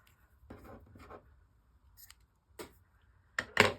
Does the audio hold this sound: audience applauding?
no